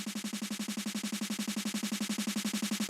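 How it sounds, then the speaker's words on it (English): A rapid, evenly spaced 16th-note snare hit for dancefloor drum and bass repeats in a tight machine-like roll, steady and continuous without any voices. "almost like this really fast repeating 16th note snare, which sounds like this"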